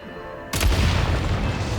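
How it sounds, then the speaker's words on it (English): A single deep, booming blast erupts abruptly as explosives detonated by gunfire go off in the video game Genshin Impact, followed by a sustained rumbling roar. "Shoot the explosives to detonate them and clear the path."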